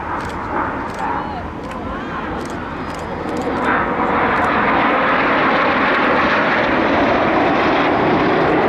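Red Arrows jet aircraft flying the Python formation trailing red, white and blue smoke over Bournemouth, a steady broad roar that swells louder midway and holds, with crowd voices faintly under it.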